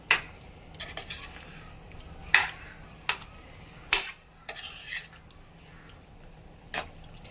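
A spoon scrapes and clinks against a pan while peas are stirred into a potato bhaji, about a dozen sharp metallic taps and scrapes at an uneven pace over a low sizzle, close and fairly clear.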